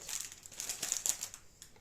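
Plastic shopping bag from an ATB supermarket crinkling and rustling in short, irregular bursts, fairly close and quiet, with no voices.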